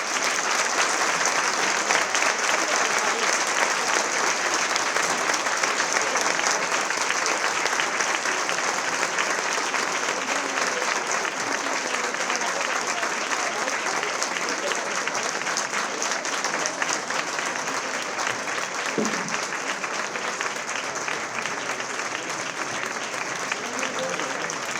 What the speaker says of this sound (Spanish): Y pido un fuerte aplauso para Mari García.